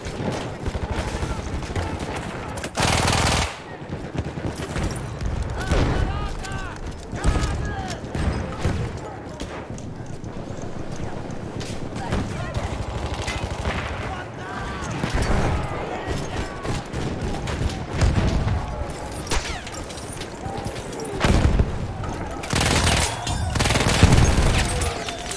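Weapon fire in Battlefield 1, steady close gunshots and automatic bursts through a busy battle mix, with distant booms and heavy impacts now and then.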